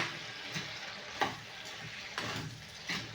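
Vegetables stirred and fried in a pan in a home kitchen, a steady close sizzle broken by a few sharp spoon scrapes and clinks against the pan at irregular intervals.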